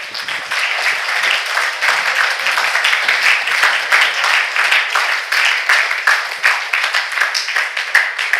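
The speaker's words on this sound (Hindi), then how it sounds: "इसको जोरदार तालियां बजाएं सभी।" A large audience at a motivational talk for students claps loudly and steadily, a continuous crackle of many hands that pulses slightly in waves and runs for the full stretch without talk.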